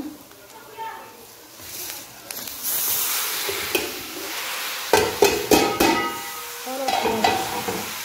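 Rice poured into melted ghee in a pot and stirred, starting with a quiet hiss that swells into a loud sizzle, then a run of sharp scraping and clattering stirs, with someone talking over it.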